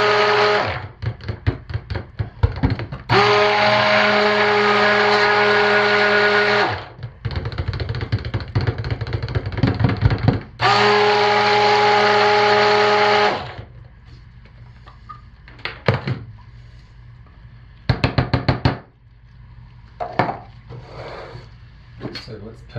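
A stick blender mixing cold process soap whirs loudly in two sustained bursts of several seconds each, with quieter clicks and knocks between and after them.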